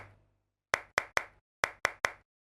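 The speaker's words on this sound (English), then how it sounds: "Okay, that's one clap." Hand claps recorded indoors as a sample: six crisp, close, dry claps in two quick groups of three, each cutting off to silence, with no talking.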